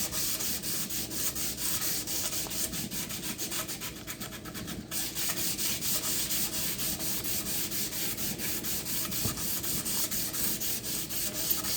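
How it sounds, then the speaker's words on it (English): Steel axe blade being sanded by hand to smooth it after welding: a continuous, close, raspy rubbing with fast rhythmic strokes and one brief pause partway through. "And sanded it some just to get a better looking finish when I polished it"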